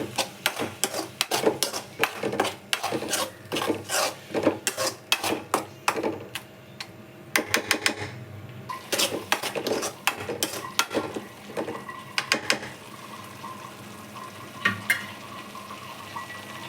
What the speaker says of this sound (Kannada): ಟೊಮೆಟೊ ಕೂಡ ಹಸಿ ವಾಸನೆ ಹೋಗೋ ಥರ ಬೇಯಿಸ್ಕೊಂಬಿಡೋಣ